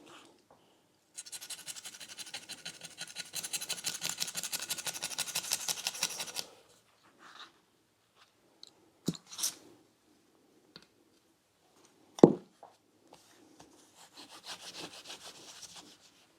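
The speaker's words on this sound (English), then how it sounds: "rust is scraping off the top of the chrome. You can hear it." Rough, gritty scraping as rust is rubbed off the chrome exhaust silencer of a Royal Enfield Classic 350, a steady rasping run of about five seconds followed by a few scattered scrapes and knocks.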